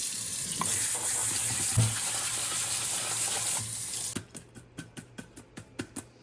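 Strawberries are rinsed under a running kitchen tap before scone baking: a steady close rush of water for about four seconds, then the flow stops and a series of light, evenly spaced drips and taps follows.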